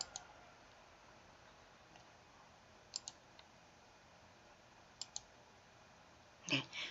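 Sparse computer mouse clicks while editing an image in photo software, a few faint single and double clicks spread across a quiet room tone, with a slightly louder click cluster near the end.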